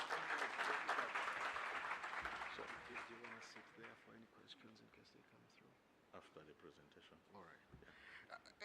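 Applause at a national safe motherhood conference fills the hall, a dense, loud wash of many hands clapping that gradually thins and fades, with scattered claps and murmuring voices lingering toward the end.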